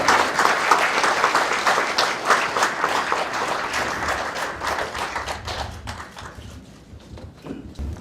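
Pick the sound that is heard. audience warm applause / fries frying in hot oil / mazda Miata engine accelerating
audience warm applause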